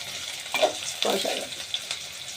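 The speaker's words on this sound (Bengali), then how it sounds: "তেল মরিচ পেঁয়াজ দিয়ে এখন রান্না করার জন্য কষানি শুরু করলো।" Oil, chilli and onion frying in a pan before cooking tilapia with potato and eggplant, a moderate sizzle with a couple of stirring scrapes over about two seconds, no talking.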